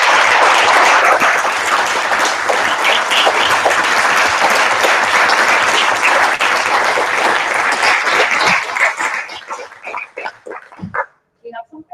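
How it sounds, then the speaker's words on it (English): Audience applause at an academic conference session fills the room loudly for about eight seconds, then fades into scattered claps, with voices and a few yelp-like sounds mixed in near the end. "let's give a round of applause to Patrick again"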